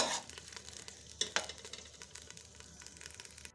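Chicken for achar gosht frying in oil, a soft, steady sizzle with faint scraping and clinking of a pan and spoon, quiet and close.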